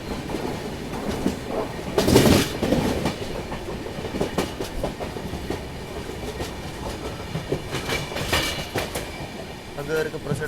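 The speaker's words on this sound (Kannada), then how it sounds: "ಕರೂರ್ ಲೈನಿಗೆ ಹೋಗೋ ಟ್ರೈನ್ ಇದೆ." A train runs along the Karur line outside Salem with a loud rolling clatter of wheels on rails and rhythmic clickety-clack bursts, strongest early on, while people talk over the rumble.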